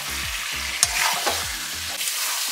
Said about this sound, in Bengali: তো মাটনের সাথেই আমি আলুগুলো অ্যাড করে দিচ্ছি,